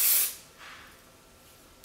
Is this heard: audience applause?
no